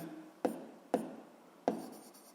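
Pen or chalk writing by hand while working a physics problem on lunar gravity, heard as three sharp taps of strokes with soft scratching between them, close and fairly quiet, with no talking.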